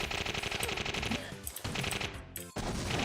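An Uzi paint gun firing in the video game Adventures of Square, rapid repeated shots in quick bursts over game music, with a brief gap before firing resumes.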